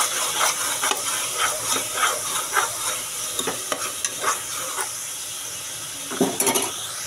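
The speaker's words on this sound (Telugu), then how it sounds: "పసుపు యాడ్ చేసిన తర్వాత బాగా కలుపుకోవాలి" Turmeric stirred into ginger garlic paste frying in oil for a mutton curry with drumsticks, a spoon scraping the pan in repeated strokes over a steady sizzle, close and moderately quiet with no talk.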